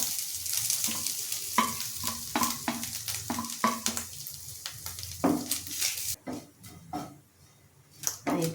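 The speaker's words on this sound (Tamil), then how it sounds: "இப்போ இதில் நம்ம தேங்காவை வறுக்க போகிறோம்." Grated coconut fries in coconut oil in a pan. The sizzle runs throughout, with repeated scraping stir strokes at close range, and the sound quiets briefly near the end.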